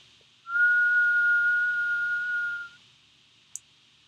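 A single clear whistled note holds steady for about two seconds, pure and sustained, then stops, followed by a tiny click in otherwise quiet surroundings.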